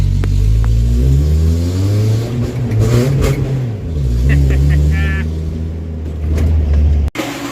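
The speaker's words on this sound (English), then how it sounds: "the Samurai manual 5 forward, part-time 4-wheel Suzuki" A Suzuki Samurai with a five-speed manual and part-time four-wheel drive is driven with its engine revving and easing through rising and falling pulls, close and steady, with occasional knocks and rattles.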